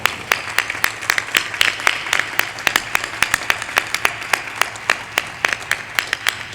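Audience at a Hindi religious discourse clapping in a steady rhythm, crisp regular claps about four per second, close and fairly loud, continuing throughout without speech.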